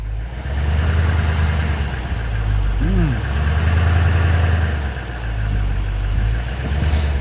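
A Hemi car engine idles with a low steady rumble and vibration throughout, shaking on a broken engine mount, while a voice briefly sounds over it.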